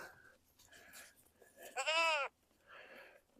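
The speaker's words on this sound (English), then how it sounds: "Goats." A goat lets out one loud, wavering bleat up close, with quieter rustling and faint animal sounds before and after.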